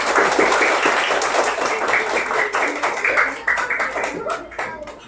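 Schoolchildren in a classroom give a round of clapping, brisk and close, with bursts of hand claps that thin out toward the end while a voice talks over them.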